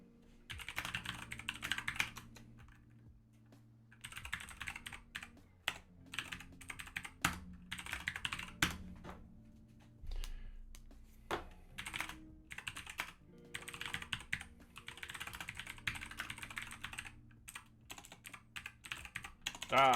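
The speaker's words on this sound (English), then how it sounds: "Keep typing this wrong." Steady typing on a computer keyboard clatters in irregular bursts of quick keystrokes with short pauses, close and fairly soft throughout.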